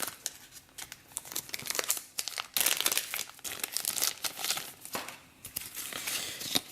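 Plastic wrapping crinkles and tears as a pack of cards for the Assault on the Empire miniatures board game is unwrapped, a close, continuous crackling with sharper rips throughout.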